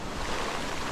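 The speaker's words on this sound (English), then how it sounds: "The waves, tide's coming in" Ocean surf washes steadily onto a beach as the tide comes in, a continuous broadband rush of waves with some wind buffeting the microphone, with no talking.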